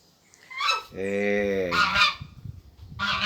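A farm goose on a rural smallholding honks loudly and close, a few harsh nasal calls in quick succession with no talk over them.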